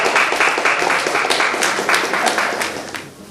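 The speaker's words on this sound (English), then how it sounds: "Let's give them an awesome round of applause" An audience at an anniversary panel discussion applauds the president of the Chicago Association of Black Social Workers, a loud, full burst of clapping that tapers off toward the end.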